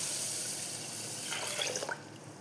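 Water is poured from a tap onto soaking rice and fenugreek for idli batter, a brief splashing run under a steady background hiss, close and with no talk.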